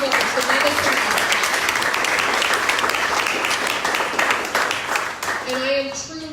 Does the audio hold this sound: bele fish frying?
no